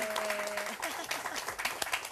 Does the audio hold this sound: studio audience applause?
yes